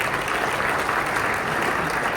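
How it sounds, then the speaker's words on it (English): Dense, steady applause from a large banquet audience at a baseball Hall of Fame writers' dinner, loud and continuous throughout with no talk over it. "we'll give a round of applause, thank you"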